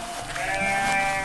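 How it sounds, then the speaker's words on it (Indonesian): A sheep bleats in a long, wavering, nasal call that holds for over a second, loud and close over a faint background hum, with no talking. "Domba yang lucu."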